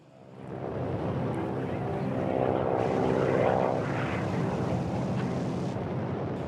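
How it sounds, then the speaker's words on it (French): A propeller airplane spraying mosquito larvicide over marshes drones steadily overhead, rising as it passes close and loud, then holding a broad engine roar that slowly fades away. "Régulièrement, le département affrète des avions comme celui-ci pour démoustiquer les marais."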